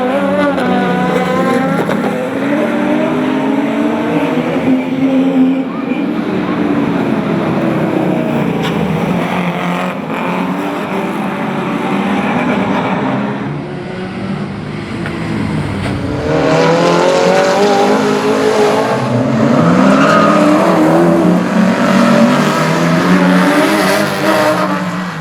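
Race cars, among them a Nissan GTR, a Datsun and a Mazda RX, contest a feature race at the Waimate 50 Motorsport Festival 2018, their engines roaring loudly and continuously as they rise and fall in pitch through gear changes and passing cars.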